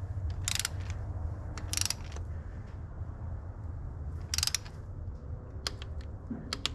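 A ratchet torque wrench set to 18 foot-pounds tightens spark plugs on a 2012 Chevy Sonic, giving several quick bursts of close, crisp ratcheting clicks over a low steady hum.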